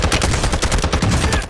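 Loud, rapid automatic gunfire from the video game Warzone 2, rattling continuously in close bursts with no pause over a short stretch and no talking.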